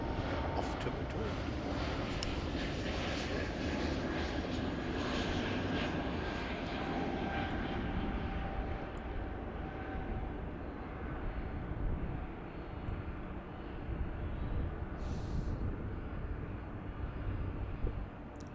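A passenger airliner, flight 714 bound for Madrid, roars through its takeoff at Heathrow Airport, a loud sustained broadband engine rumble lasting throughout and slowly easing, heard from a distance outdoors.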